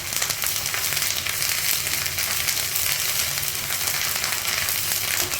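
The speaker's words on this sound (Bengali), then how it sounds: "এখন আদা রসুনের কাঁচা গন্ধ চলে না যাওয়া পর্যন্ত মশলা ভাজতে থাকবো।" Ginger garlic paste and whole spices with bay leaf, dried chili and cumin fry in mustard oil and ghee, making a dense, loud, unbroken sizzle with no voices.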